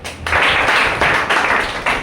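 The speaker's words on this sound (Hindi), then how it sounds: "एक बार जोरदार तालियां अंकुश सर के लिए" An audience at a business plan presentation in Panipat bursts into loud applause for the speaker Ankush. The clapping starts sharply after a brief moment and stays dense and steady, swelling slightly in waves.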